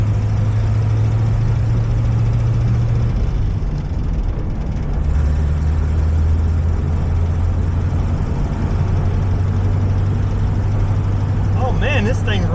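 A 1937 Buick Century's engine runs steadily with a rattly top end, a constant low drone that holds throughout while driving, with a brief shift in pitch partway through.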